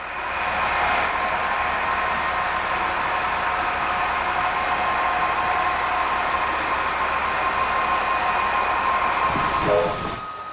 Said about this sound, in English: This train is coming into our industrial area